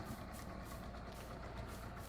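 A tractor engine idles steadily in Farming Simulator 22, a low continuous rumble with a faint vibrating hum that holds even and unbroken, with no one talking over it.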